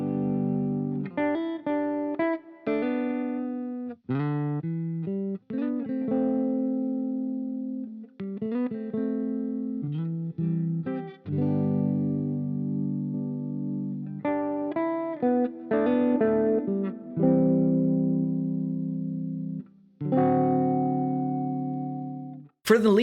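Electric guitar played clean in the style of a cover, with short phrases, held chords and single notes, a very sparse amount of delay and reverb adding slight space, heard alone.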